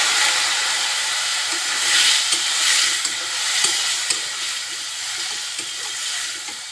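Small new potatoes tipped into hot oil with turmeric for aloo dum, a loud, steady sizzle with occasional stirring knocks and swells of frying.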